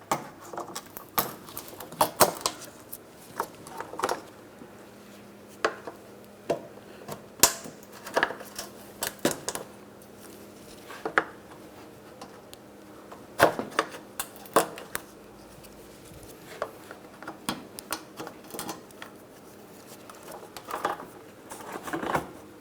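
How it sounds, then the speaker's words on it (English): Plastic push clips pop loose from the front bumper impact absorber area of a 2008-2016 Chrysler Town & Country, scattered sharp snaps and clicks amid rustling handling noise, with no talking. "Four more push clips making their way up along this area."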